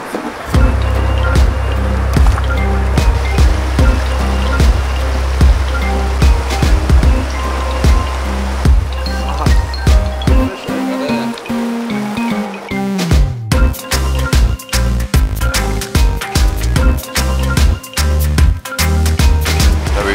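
A riffly mountain stream in the Drakensberg rushes steadily over stones, a loud, continuous watery wash close by with choppy splashes throughout and no voices.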